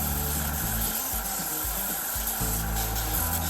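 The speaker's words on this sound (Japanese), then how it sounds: "とりあえずベルトディスクサンダーでテンプレートギリギリまで削っていきます" A belt disc sander grinding the edge of a heavy wooden Les Paul-style guitar body made from Japanese wood, a loud continuous abrasive whir whose pitch dips and rises as pressure changes, no talking.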